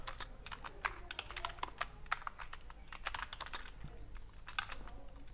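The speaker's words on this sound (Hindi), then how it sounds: "यहाँ पे थोड़ा अपनी सर्विस या कंपनी के बारे में लिख देंगे" Quiet typing on a computer keyboard while a business description is entered into an online listing form, with irregular clicks and short bursts of keystrokes continuing throughout.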